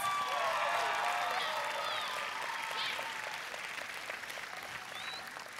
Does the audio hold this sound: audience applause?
yes